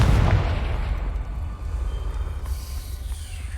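A Confringo blasting spell from Hogwarts Legacy detonates with a loud, close boom, then a low rumbling tail that fades over a few seconds, with no talk.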